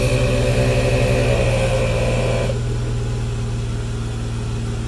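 An ARB twin air compressor runs steadily alongside a Jeep's idling engine, giving a loud, continuous mechanical drone with a rhythmic pulsing hum; partway through, the higher-pitched component drops away while the low engine rumble carries on.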